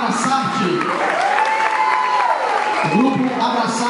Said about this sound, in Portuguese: eu peço uma salva de palmas mais uma vez para o grupo Abraçarte